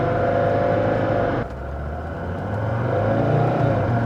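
A Mercedes-Benz S123 300TD diesel estate with an automatic gearbox that shifts and flares: a droning engine runs steadily, drops abruptly midway at a gear change, then climbs again as revs rise.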